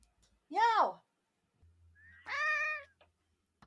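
A pet cat meowing twice, a short close meow followed after a pause by a longer drawn-out one, with quiet room noise and no talking between them.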